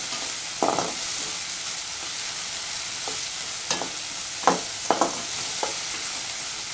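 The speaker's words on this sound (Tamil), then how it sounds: "இப்போ இந்த தக்காளியும் நல்லா வதங்கி இருக்கும்." Tomatoes sautéing in a pan for tea-shop style masala payaru, a steady soft sizzle broken by several sharp scraping stir strokes, close and moderately loud with no talking.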